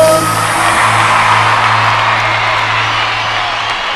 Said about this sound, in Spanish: ¡Y los aplausos!